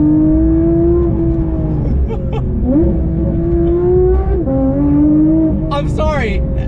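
A Porsche 992 911 GT3 is driven hard, and its exhaust howls loud and close. The revs climb in long sweeps and briefly dip on gear changes, and a voice is heard near the end.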